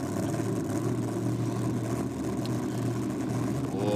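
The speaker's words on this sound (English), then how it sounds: "Oh, sounds like a supercharged Alta down below us, Stu." A supercharged Alta drag racing car with a Hemi engine rumbles below at a 2023 day of the drags, a steady low powerful engine drone heard from a distance, constant throughout.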